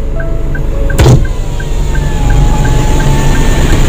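A car's power window is lowered from inside the vehicle: a loud, close electric motor whine runs steadily for several seconds, with a brief thump near the start and faint engine hum beneath.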